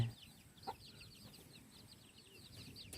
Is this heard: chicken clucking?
yes